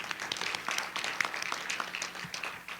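Faint, steady clapping from a small audience at a school board meeting, a light patter of hands that continues for a few seconds.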